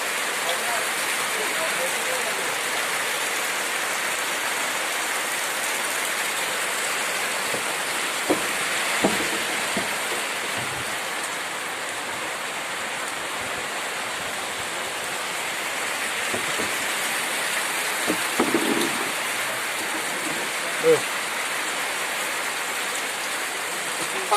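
Steady rain falls over a village, a constant broadband hiss with occasional closer drips and knocks breaking through.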